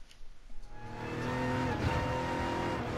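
Audi R18 race car in the GT Sport racing game, its engine building from a few uneven revs into a loud, sustained high-pitched drone with layered harmonics that rises and holds steady to the end.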